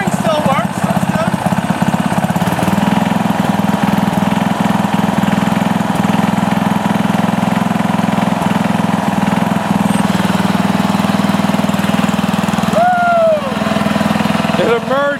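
The engine of a Sears Companion tractor, running for the first time in seven years, gives a loud, steady low chug close by for the whole stretch. Voices break in briefly near the end.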